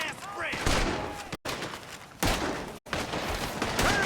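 Gunfire erupts in a Red Dead Redemption 2 robbery shootout: dense volleys of shots crack in bursts with brief silent gaps between them, loud and close, mixed with game voices and shouting.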